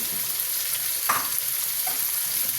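Sliced tomatoes fry in masala for chickpea degi pulao, a steady close sizzle with a brief stirring scrape, no speech.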